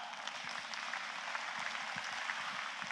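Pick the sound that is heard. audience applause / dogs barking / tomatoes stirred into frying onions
audience applause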